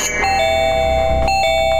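A doorbell rung by a pizza delivery person sounds twice, each loud, bright electronic chime ringing out and lingering, with no talking.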